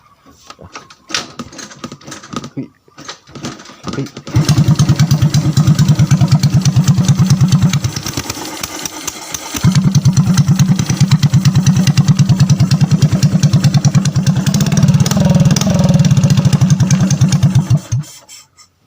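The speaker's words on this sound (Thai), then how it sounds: "อยากจะลองฟังเสียงท่อเพียวๆ ดูมันจะดังยังไงนะครับ" A loud, raw Honda Wave 110i motorcycle engine idling with no exhaust muffler, harsh rapid popping exhaust, briefly dipping mid-way then revving steadily again, close by.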